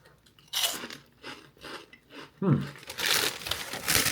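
Crunchy cinnamon twist snacks are bitten and chewed close to the microphone, giving a few sharp crisp crunches followed by bursts of crackly chewing, with a voice briefly audible.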